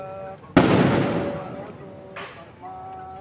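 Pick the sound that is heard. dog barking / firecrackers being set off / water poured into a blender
firecrackers being set off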